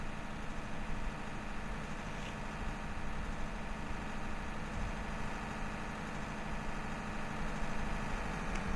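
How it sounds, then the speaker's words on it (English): A single-engine propeller plane in Flight Simulator X drones steadily, a continuous low engine hum with a constant vibrating texture, moderately loud and unbroken, with no voices over it. "this is a single engine prop plane"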